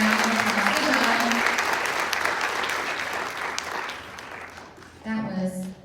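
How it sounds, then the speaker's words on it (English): Audience applause at a school spelling bee, a dense burst of clapping from a crowd that tapers off gradually before a voice comes in at the end. "Let's give Emerson Kraft from Boston a round of applause."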